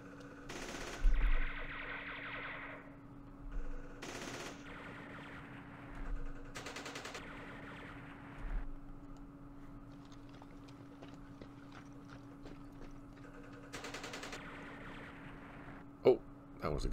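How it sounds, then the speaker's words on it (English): Recoilless rifle and other weapons firing in the wargame Campaign Series Vietnam, a few faint, sharp reports spaced seconds apart over a low steady hum, with quiet speech in between. "Take some of your own medicine with a recoilless rifle."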